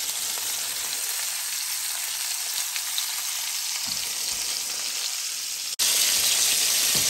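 Steak frying in a pan, a loud, dense sizzle that holds steady throughout, briefly broken by a sharp click and then resuming slightly louder, with no one talking.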